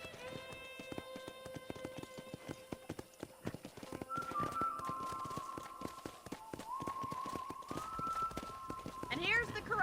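Rhythmic clip-clop of horse hooves trotting with a synthetic, game-like quality, over tonal music notes and steady ambient background, in the video game Red Dead Redemption.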